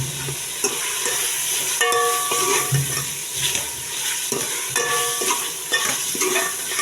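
Tomatoes and meat stirred and frying in a pan for a macaroni masala, a steady close sizzle with repeated scraping stir strokes and occasional light metallic clinks, no talking.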